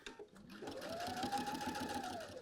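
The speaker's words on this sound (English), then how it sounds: "And then just back stitching." Sewing machine stitching a lapped zipper, a steady close mechanical whirr with a rising whine that runs nearly the whole time, faint talk audible at the very start.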